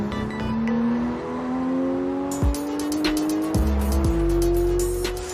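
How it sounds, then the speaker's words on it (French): A car drives along an empty Paris ring road during a film shoot, its engine a steady rising drone with a few brief louder thumps and tire noise, heard fairly close with no talking. "la voiture va passer en dessous"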